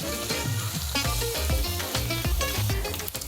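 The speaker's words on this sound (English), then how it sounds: "The sizzle is amazing, so it means that we're gonna get a really great sear on the bacon" Bacon sizzles steadily in a hot enameled cast iron pan, a continuous close frying hiss over about three seconds, with tonal background sounds running underneath.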